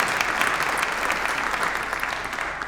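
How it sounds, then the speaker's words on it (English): A university graduation audience claps in a steady, dense round of applause, even and continuous throughout. "All I'm going to ask you to do is clap for people."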